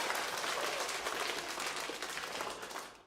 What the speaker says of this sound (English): We need to clap.